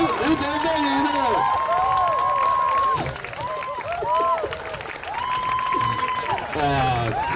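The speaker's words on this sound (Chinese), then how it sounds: "鼓掌！" Applause and cheering from a crowd as a winner is announced, loud and steady, with raised voices and shouting layered over the clapping and a brief dip in the middle.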